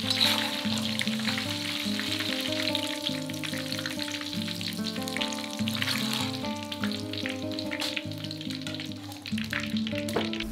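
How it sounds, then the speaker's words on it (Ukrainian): Fresh garlic cloves frying in a pan, a continuous close crackling sizzle with bursts of sharper popping and a few stirring scrapes throughout, no voices over it. "Для розкішного аромату підсмажимо зубчики свіжого часнику."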